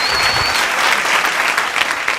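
A comedy show audience claps loudly and steadily after a comedian's set, a continuous close wash of applause.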